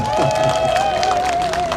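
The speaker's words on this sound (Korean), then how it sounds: "박수 한번 크게 보내주세요" Crowd applause and cheering at an outdoor election rally near a subway station, a short dense burst of clapping with a steady tone ringing through.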